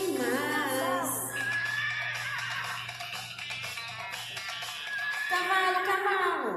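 Young children imitate a horse's neigh with wavering, rising and falling whinny-like voices during a nature lesson on a farm, loud and close.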